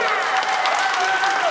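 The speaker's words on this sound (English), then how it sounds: "give them a round of applause" Brief burst of crowd applause for the Duprees vocal group at an onboard Q&A on the Norwegian Joy cruise ship, dense clapping with a few voices and a faint tonal whistle over it.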